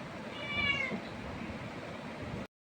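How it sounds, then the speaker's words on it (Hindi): Cats meowing insistently while demanding milk in a household, a drawn-out, wavering meow close by over a noisy background, cut off abruptly near the end. "ये देखो 1 2 शोर वाली बिल्लियाँ जिद करती हैं, ये दुद्धू मांग रही हैं।"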